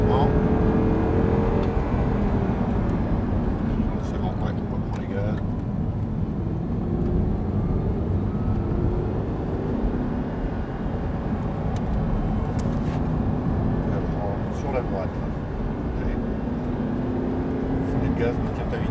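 Audi R8 accelerating on the Lohéac racetrack during a driving course, a steady engine drone running throughout at moderate level beneath an instructor's continuous talking.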